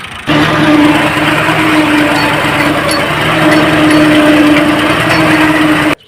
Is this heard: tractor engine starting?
yes